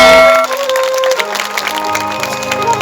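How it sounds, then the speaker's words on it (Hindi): A gathering at a Shiv Mahapuran katha applauds devotees. A burst of clapping rises after a loud opening and keeps going steadily, mixed with musical tones. "इन भक्तों के लिए एक बार जोरदार तालियां हो जाए"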